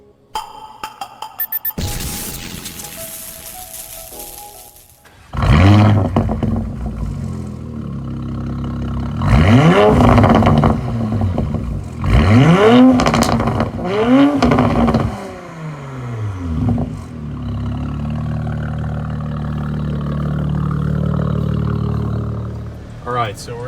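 A 2021 Porsche Macan GTS with a 2.9L engine, MBRP catback exhaust and Flat 6 Motorsports intake revs hard in several loud, close bursts, each rising and falling, with a quieter idle drone between and after them.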